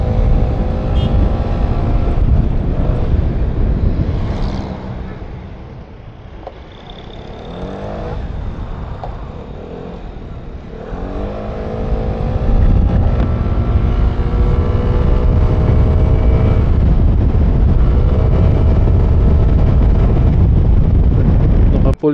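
A Vespa Sprint 150 scooter on a test ride, its engine drone close and continuous, rising and falling in pitch with the throttle, under heavy wind buffeting on the microphone.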